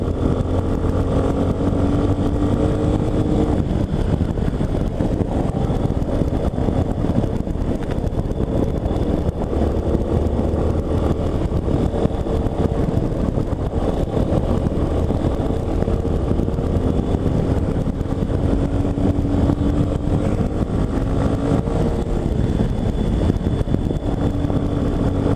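A Yamaha Ténéré 250 motorcycle engine drones steadily and loudly throughout, its pitch rising and falling gently with wind rush as the bike cruises along.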